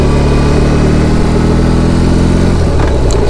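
A BMW R18 B bagger motorcycle's large boxer engine runs steady and loud with a deep droning hum, its pitch holding level before shifting near the end as the bike heads onto a 110 km/h freeway.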